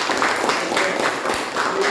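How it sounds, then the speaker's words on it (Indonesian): Classmates applaud the best group in a classroom session, a brief burst of fairly loud, dense clapping filling the room. "Kasih dulu tepuk tangan."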